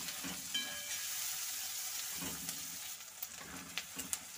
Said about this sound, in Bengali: গাজরটা দিয়ে আমার কিছুক্ষণ ভাজা হয়ে গেছে, এবার আমি দিয়ে দেবো ক্যাপসিকামগুলো।